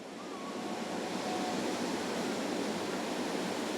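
A tidal bore rolling up the Qiantang River in eastern China makes a steady, unbroken roar of rushing water, fairly soft and distant, swelling slightly at the start and then holding level.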